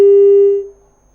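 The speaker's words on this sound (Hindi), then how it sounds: "तो फोन लाइन कट गई है।" A single sustained tone follows a phone line disconnecting, holding steady for about half a second before fading out, loud and alone with no speech.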